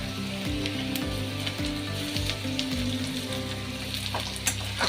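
Garlic goes into a pan of browned onions for a spinach-garlic dish, setting off a steady loud sizzle with soft stirring scrapes throughout, no talk.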